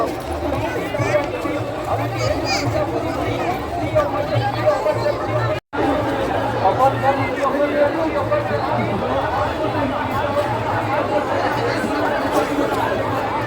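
Steady crowd chatter fills a busy village fair, many voices overlapping in a continuous close babble that breaks for only an instant.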